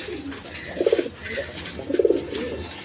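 A pair of high-flying Giribaz pigeons with green necks coo in two distinct throaty bursts, close and fairly loud, with a quieter pause between them.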